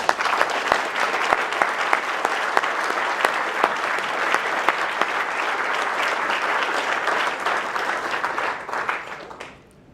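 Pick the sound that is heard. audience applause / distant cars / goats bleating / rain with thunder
audience applause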